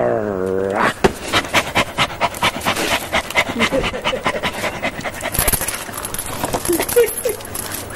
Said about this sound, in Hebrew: כלב טמבל